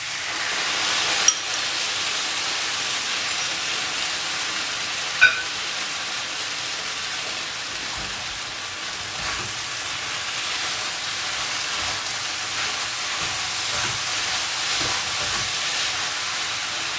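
Cornflour-thickened sauce hitting a hot wok for a Sichuan broccoli and cashew stir-fry, a steady, loud hiss and sizzle running throughout with a couple of sharp clanks, no voices.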